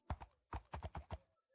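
A horse in a Minecraft-style block game clip-clops in quick, hollow hoofbeats, about seven steps in an uneven trot, quiet and close with no other sounds.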